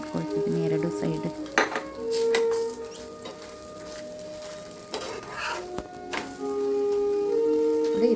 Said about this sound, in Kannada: ತೆಂಗಿನಕಾಯಿ ಎಣ್ಣೆ ಹಾಕಿ ಮತ್ತೆ ನಾನು ಫ್ರೈ ಮಾಡ್ಕೊಳ್ತಿದ್ದೀನಿ 2 ಸೈಡ್